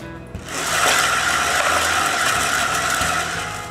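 Screwing parts of a wooden spinner bearing together with a power driver, a steady close whirring run of about three seconds after a brief click, ending with a slight rise.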